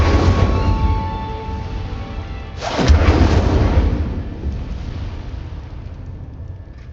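A fiery Incendio spell from the video game Hogwarts Legacy: a loud rushing whoosh of flame with a deep rumbling burst near the middle that slowly fades, with no voices.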